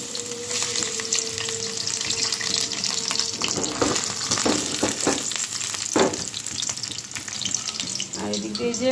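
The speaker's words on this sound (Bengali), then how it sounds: "এখন ভেজে নিই।" Hilsa fish rubbed with turmeric and salt sizzles steadily in hot oil, a loud continuous crackle with occasional scraping stirs and clinks of a utensil against the pan.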